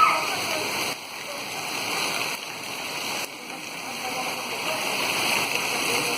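Steady, dense rain pours down on a street called Rua do Frade, a continuous hiss with a few brief dips, while people can be heard in the background.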